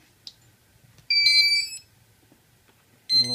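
A KK flight controller on an s550 Spider hexacopter gives startup beeps at power-up: a faint click, then a loud electronic chirping tone lasting under a second, a pause, and another beep starting.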